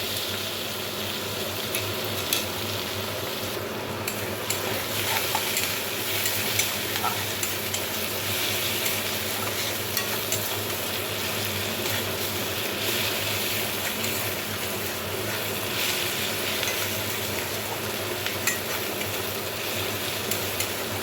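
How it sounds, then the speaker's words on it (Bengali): Chopped onion and garlic fry in leftover fish oil, a constant close sizzle with occasional stirring scrapes that stays even and unbroken. "ভেজে রাখা মাছের তেলের মধ্যে এবার দিয়ে দিচ্ছি কেটে রাখা পেঁয়াজ এবং রসুন। এগুলোও কিন্তু আমি খুব হালকাভাবে ভেজে নেব।"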